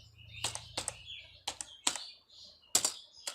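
Sharp computer keyboard keystrokes come in irregular bursts, with a firmer key press like an enter key among them, close and clear with no talking over them.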